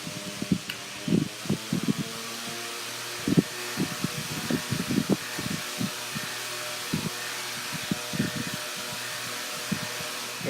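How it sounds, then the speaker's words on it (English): A Mainstays 9-inch high velocity fan runs on its high setting, a loud, steady airy roar with a low motor hum, broken by occasional brief thumps and rustles close to the microphone. "It is quite noisy on high speed, but it moves a lot of air."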